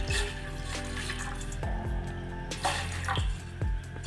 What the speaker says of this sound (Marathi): याच्यामध्ये 1 फुलपात्र मी पाणी ओतते